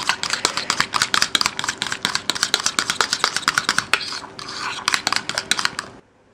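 A utensil stirs hard-boiled egg filling in a bowl in quick, steady strokes, giving a dense run of close clinks and scrapes that stops abruptly near the end, with no talk.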